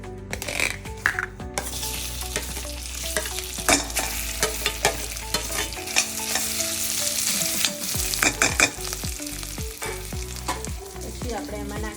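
Mashed potatoes stirred and frying in a pan for a Kutchi dabeli filling, with close sizzling and repeated scraping of a spoon against the pan in uneven strokes.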